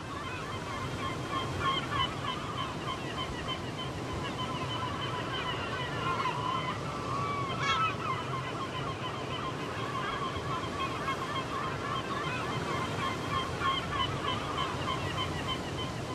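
Seabirds calling over ocean waves at the Atlantic Islands of Galicia, steady surf and wind with distant, repeated honking cries layered throughout.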